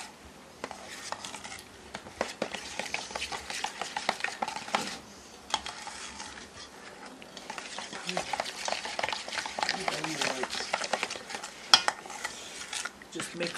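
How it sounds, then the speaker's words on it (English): Onion petal sauce of garlic pepper and milk being mixed, with rapid, close clinking and scraping of a utensil against a bowl in uneven bursts, pausing briefly partway through. "Just mix it up"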